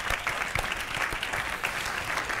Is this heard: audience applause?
yes